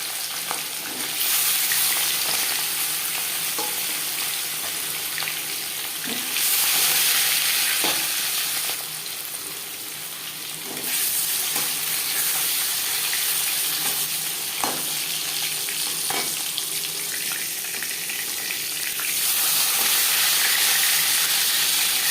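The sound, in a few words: fish frying in hot oil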